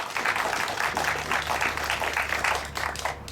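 A crowd claps in a round of applause at a gathering, loud and fairly close with a busy, slightly uneven rhythm and a low hum underneath.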